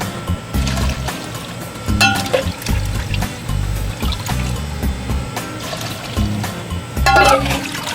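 Water pours and splashes in bursts over hog skins being rinsed during rendering, with a few gurgling surges and trickles against a dull background rumble, fairly close by.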